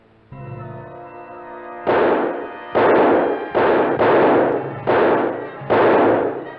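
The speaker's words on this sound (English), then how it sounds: "Shoot him, Davis, shoot!" Six loud gunshots in an old radio drama, fired in an irregular sequence with short pauses, each a sharp broadband crack that decays quickly, following a brief stretch of quiet background tone.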